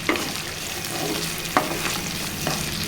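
Curry leaves crackle and sizzle in hot oil in a pan for a Telangana-style brinjal tomato curry, a steady close fry with a few sharp pops and light stirring, no voices.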